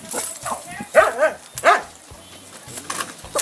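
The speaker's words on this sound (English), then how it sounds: "Stop barking." A dog barks a few times in quick bursts, fairly close, with a person talking over and between the barks.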